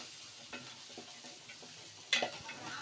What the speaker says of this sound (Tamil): இதை கொஞ்சம் நல்லா வதக்கிக்கோங்க.